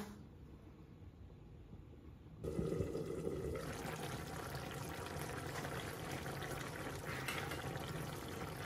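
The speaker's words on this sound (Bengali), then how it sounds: "এখন আমি মাছটা দিলাম" Mrigal fish slipped into a covered pot of boiling water for a cauliflower and fish curry, setting off a sudden loud rush of bubbling and sizzling that continues steadily after a quiet start.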